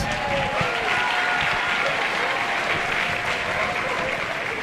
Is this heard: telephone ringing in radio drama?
no